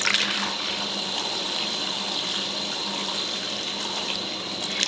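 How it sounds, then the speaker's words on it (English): A makeup brush swirls in a sink of soapy water, producing a continuous close splashing, sloshing wash with running water, moderately soft and steady throughout with no talk. "I'm just going to dip it back into the soap and swirl it around a little bit more"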